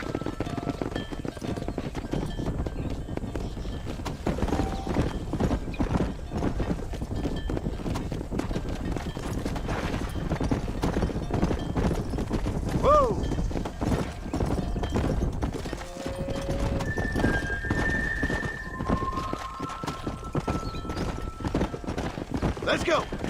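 Horses in the video game Red Dead Redemption trot steadily with rhythmic clip-clopping hooves, with occasional neighs, while voices talk over the continuous hoofbeats.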